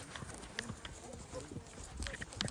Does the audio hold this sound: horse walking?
yes